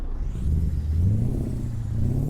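Mack Ultraliner truck engine with air start in American Truck Simulator, a deep, rumbling diesel idle close up that swells and settles with a steady low throb, heard alone without talk.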